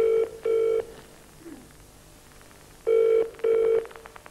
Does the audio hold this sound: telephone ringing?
yes